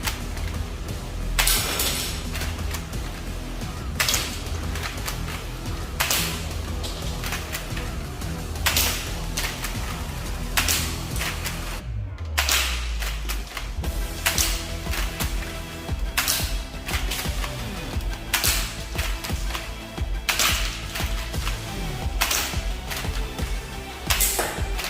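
LEGO M16A1 toy rubber-band gun fires an entire 15-round magazine, a long run of sharp snapping clicks at uneven intervals, close and fairly loud, with a brief pause near the middle.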